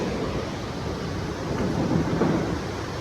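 River water flowing beneath a new iron bridge over the Amreng river: a continuous broad rushing wash, steady and fairly loud, with no voices.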